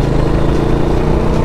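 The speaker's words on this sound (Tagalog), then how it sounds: "Sira kasi isang stud eh, kaya di ganun kasolid yung tunog ng tambutso." A Rusi motorcycle idles with a broken exhaust stud, giving a loud, close, steady engine drone with a slightly loose, uneven exhaust rumble and no voices over it.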